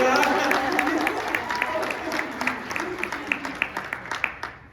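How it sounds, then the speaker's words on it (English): Conference audience applause, a dense patter of many hands that thins toward the end into a few scattered individual claps, with voices murmuring underneath. "Give her a round of applause."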